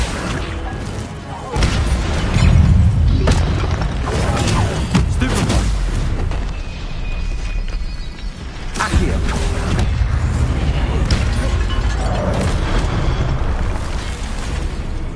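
Spell blasts in the Hogwarts Legacy video game burst and boom repeatedly, several loud explosive hits and crashes in irregular succession amid rumbling combat noise.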